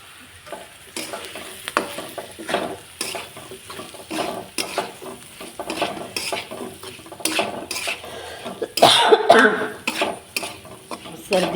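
Chilli powder and spice masala fry in a pan for aloo matar, with bursts of sizzling and repeated scraping and clinking of a spoon stirring against the metal, loud and close.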